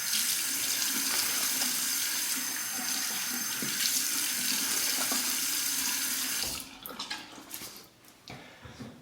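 Bathroom tap running into a sink to warm the face before a wet shave, a strong steady rush of water that cuts off near the end, leaving brief splashing and dripping.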